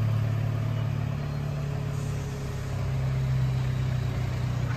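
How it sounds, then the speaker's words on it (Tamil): A 2009 Toyota 1-ton petrol forklift engine runs steadily as the truck drives around, a constant mid-pitched drone with a low hum, fairly loud and close, dipping slightly midway, with no talking. "வண்டி வருது"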